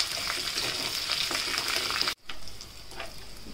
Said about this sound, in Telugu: ఇందులో ఒక 8 ఎండుమిరపకాయలు తీసుకున్నాను, వేసేసుకోండి. మంచిగా వేగాలి.